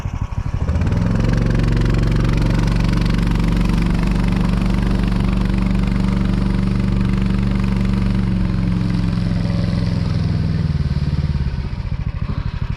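A snowmobile engine drones loudly and steadily close by for most of the clip, a low rumbling hum that fades slightly near the end.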